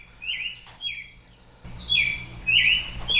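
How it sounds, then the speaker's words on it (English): Several birds chirp in short, bright bursts, three or four distinct calls close to the microphone with quiet background hum and no talk. "Oh my God, you stupid birds."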